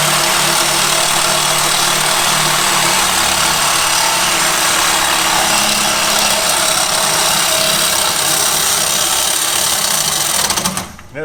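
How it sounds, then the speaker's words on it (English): A loud power saw grinds steadily through a GM steel exhaust pipe for several seconds, a harsh continuous whine that cuts off abruptly at the end. "Notice that GM pipe's a little bit tougher to cut."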